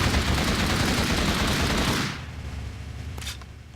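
Dense, rapid shotgun fire from the game Creeper Bunker roars loud and continuous for about two seconds, then cuts off, leaving a quieter rumbling tail and one faint later shot.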